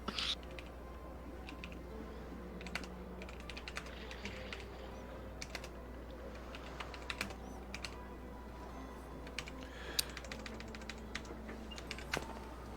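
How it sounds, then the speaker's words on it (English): Quiet, steady typing on a computer keyboard during a tabletop Dungeons and Dragons session, with soft irregular key clicks and occasional sharper taps over a low background hum, no voices. "Hence typing."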